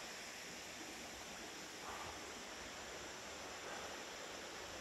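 Steady broadband rush of a cold mountain stream flowing during an October backpacking trip, a constant close wash of water with no talking.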